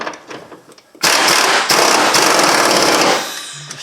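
An impact gun, turned down low, rattles loudly in one sustained burst of about two seconds, with a brief hitch partway, as it snugs the rear subframe trailing arm bolts on a 2000 Ford Focus.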